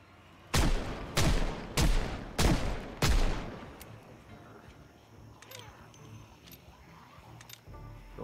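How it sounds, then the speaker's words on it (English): Five loud close gunshots fire in quick, even succession in a zombie survival video game, then fade into quiet background ambience with faint clicks. "gunshots are loud, as you can see"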